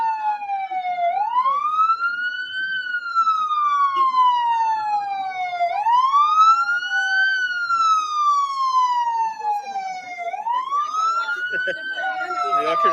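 Fire truck sirens wail in a steady rising and falling cycle during an Independence Day parade, loud and close, repeating about every five seconds with faint crowd noise beneath.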